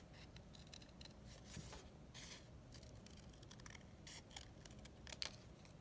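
Scissors snipping through folded paper to cut out a heart shape along a drawn line, a steady run of soft, close crisp cuts and scrapes at low volume, with no talking.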